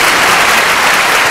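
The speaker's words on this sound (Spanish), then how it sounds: "Fuerte el aplauso." An audience claps loudly and densely in a brief, steady burst, the sound close and full without any voices.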